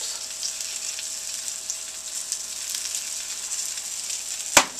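Venison steaks fry in butter with a steady, close, bright sizzle that holds evenly throughout, broken by one sharp click or tap near the end.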